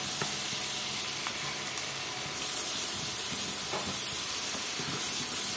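Tofu fries in a pan with sugar added, a steady loud sizzle and hiss with faint scraping taps as it is stirred.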